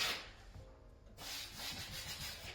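Sealant and voids on a Subaru Type R body being sanded back by hand: after a brief quiet start, a steady, close, rasping scrub runs continuously.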